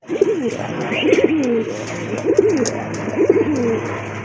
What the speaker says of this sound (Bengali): আরেক জোড়া কবুতর দেখতে পাচ্ছেন এটা হচ্ছে বোম্বাই কবুতর